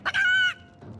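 A chicken in the video game Divinity: Original Sin lets out a short cluck and then a loud, sustained squawking call, close and alone, followed by a softer trailing note.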